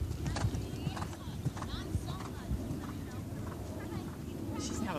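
Horse hooves thud on the footing of a stadium jumping arena course, faint and steady under wind noise, with people talking nearby.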